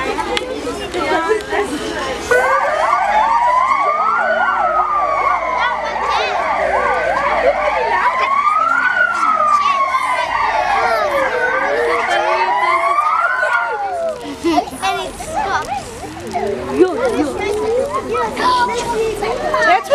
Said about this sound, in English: That's what you hear when you're on the road and the ambulance comes past you.